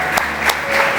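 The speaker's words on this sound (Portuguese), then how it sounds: "Por isso, nós honramos com um aplauso a todas as mamães aqui presentes." Applause from a church congregation honoring mothers on Mother's Day, a brief burst of close, dense clapping with no voices.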